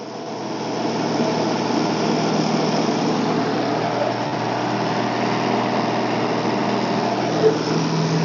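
A saw cuts into a tree log with a loud, steady engine whine that holds nearly unbroken, close by, with no pauses between strokes.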